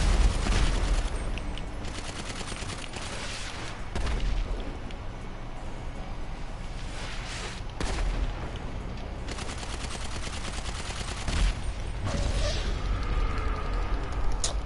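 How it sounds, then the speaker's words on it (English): Rapid combat PDW gunfire in a video game, with dense bursts of automatic shots and booming impacts that keep going for the whole stretch, loud and close, with short breaks between volleys. "Give me my combat PDW. That has 100 bullets in it."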